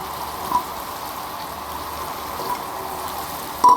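Chicken pieces for chicken rezala go into a pan of frying masala, producing a steady, close sizzle with a soft crackle and a couple of brief louder spits.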